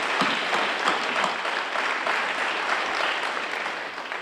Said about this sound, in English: I think that a nice resounding round of applause they'll feel in their heart